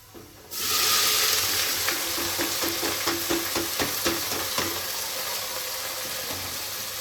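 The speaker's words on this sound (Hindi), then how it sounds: "अब हम इसमें डालेंगे आलू और हरी प्याज।" Potatoes and spring onions tipped into a pan of frying onions set off a loud burst of sizzling, followed by a steady sizzle with a quick run of rhythmic stirring scrapes and taps, no voices.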